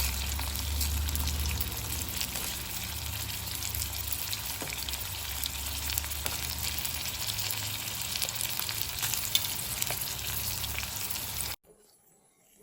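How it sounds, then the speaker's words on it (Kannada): Onions, dried Byadgi chillies, garlic, ginger, pepper and spices fry in oil for a village-style crab curry, a steady close sizzle with faint stirring, cutting to near silence just before the end. "ಸ್ವಲ್ಪ ಎಣ್ಣೆ ಚೆನ್ನಾಗಿ ಈರುಳ್ಳಿ ಎಲ್ಲ ಏನೇನು ಹಾಕಿದ್ವಿ ಅದೆಲ್ಲ ಸ್ವಲ್ಪ ಕೆಂಪದಾಗೋವರೆಗೂ ಹುರ್ಕೋಬೇಕು"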